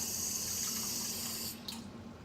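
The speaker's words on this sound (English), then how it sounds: "I'm gonna add a little water to it to make it stir easier." Tap water pours in a steady hiss into a pan of taco filling, a close, even stream that cuts off near the end and leaves a faint splash.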